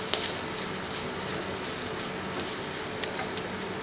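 Masala sizzling steadily in oil in a pan over a low to medium flame for a fish molee, a soft continuous crackle with faint pops, close and alone.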